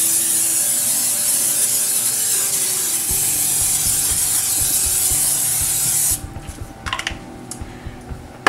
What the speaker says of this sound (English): I'm going to spray that heavily with some cooking spray